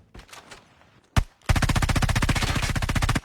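Automatic gunfire in a battle royale video game: a few soft shots and one sharp crack, then a sustained, rapid burst of loud, evenly spaced rounds that runs for nearly two seconds, close and dominant.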